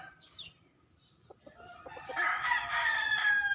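A black-and-white-legged gamefowl rooster crows loudly and close by, a long drawn-out call in the second half, preceded by a few soft clucks.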